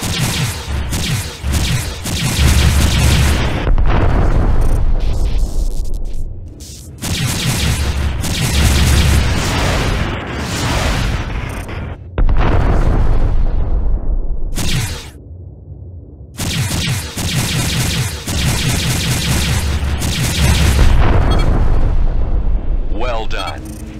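Blasts and gunfire from a space combat video game as a Myrmidon space superiority fighter's Supac HL-7 guns destroy drones: loud, dense bursts of booming explosions and firing that come in long waves with brief lulls between.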